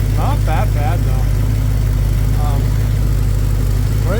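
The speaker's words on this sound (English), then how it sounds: "A little bit of an exhaust leak over here." Idling 1971 Plymouth Scamp engine with a small exhaust leak, a steady low rumble with faint puffing, heard close up while someone talks intermittently over it.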